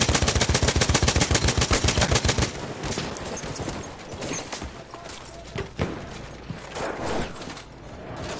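Battlefield 1 gunfire from a trench: a fast, loud, evenly pulsing machine-gun burst for a couple of seconds, then scattered sharper shots and battlefield clatter.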